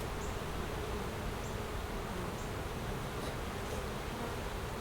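Honey bees from a backyard hive in North Port, Florida hum in a dense, continuous buzz close by, steady and moderately quiet, with no talking.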